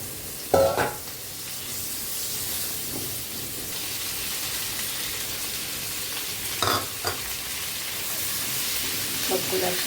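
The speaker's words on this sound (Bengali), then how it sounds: "সবগুলো একসাথে আমি ভাজি করে নিই।" Soya chunks fry together in a pan with a soft, continuous sizzle and hiss, broken by a few brief clattering stirs of a utensil, fairly quiet and close.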